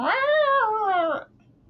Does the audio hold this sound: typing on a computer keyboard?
no